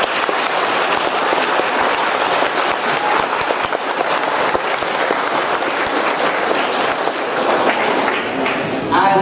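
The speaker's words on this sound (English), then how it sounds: "So let's give all the parents a round of applause." A concert audience at an international day event gives the parents a round of applause: loud, close, continuous clapping throughout, with faint voices mixed in.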